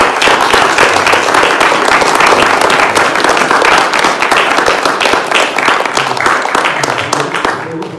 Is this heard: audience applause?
yes